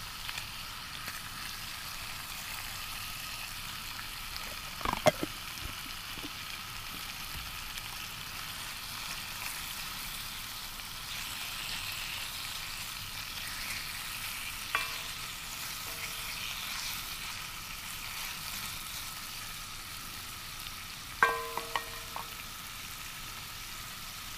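Onions and bacon frying in a pan at an outdoor forest picnic, a soft, continuous low sizzle heard from close by, broken by a few faint clinks from a utensil.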